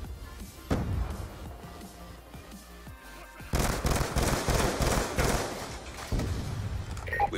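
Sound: Hellstorm missile strike in Call of Duty video game

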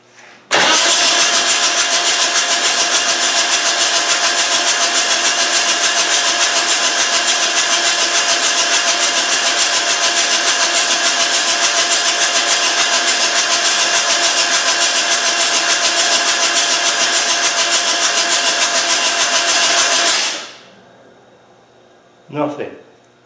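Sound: Malawi 110 engine cranking with glow plugs removed

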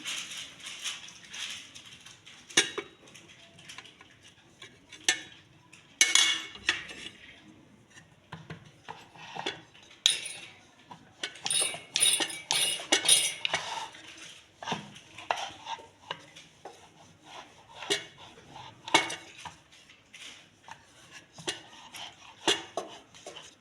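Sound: rolling out methi thepla dough

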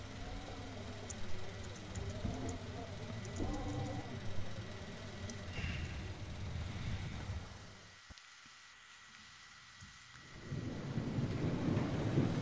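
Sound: rain and thunder in the video game Dying Light

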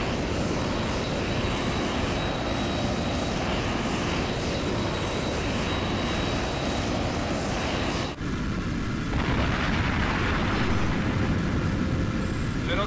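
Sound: fighter jet aircraft engines in Tom Clancy's H.A.W.X. video game

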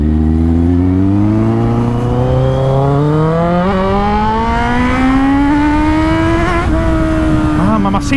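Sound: motorcycle engine revving

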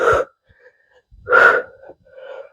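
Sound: exhaling hard during bodyweight strength exercise

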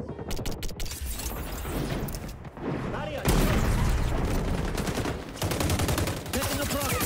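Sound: grenade explosion and gunfire in XDefiant video game

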